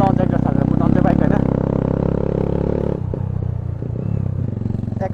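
A motorcycle fitted with an aftermarket Akrapovic exhaust being ridden, its engine droning loudly with a rumbling note that shifts partway through, while a voice talks over it.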